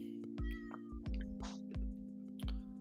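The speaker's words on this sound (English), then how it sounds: "Let Luna meow" Luna, a pet cat, meows repeatedly, several short distinct meows in an irregular rhythm, clear and fairly close over a steady background hum, with no talk.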